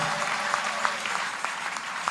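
A church congregation claps and cheers for the Lord during a French-language worship service, sustained dense applause with scattered sharper claps throughout, fairly close and steady.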